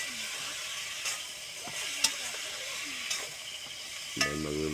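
Adobong balatong (mung beans) with kalabasa squash sizzling steadily in a pan, with a few sharp scrapes and knocks of a spoon stirring, close and continuous with no talk.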